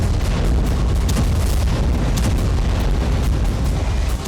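Explosions from a drone strike on a burning oil depot, a continuous loud, roaring rumble with repeated heavy booms and crackling bursts, no speech.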